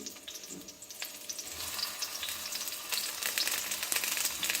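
Stuffed tinda gourds going one by one into hot oil in a kadhai, the frying sizzle swelling louder and denser as more pieces are added, with no talking.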